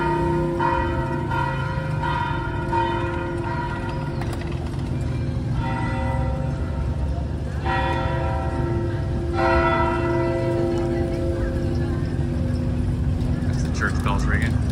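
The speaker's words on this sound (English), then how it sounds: "That's the church bells ringing." Church bells ring out during an outdoor city marathon in Guatemala, a series of sustained resonant tolls struck every couple of seconds over steady crowd and street noise, with a voice talking underneath.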